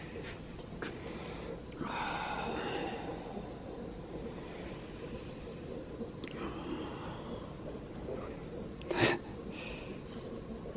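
During labour on laughing gas, a woman in a birthing tub breathes in heavy, drawn-out inhalations and exhalations, with a louder gasping burst near the end, up close and fairly quiet.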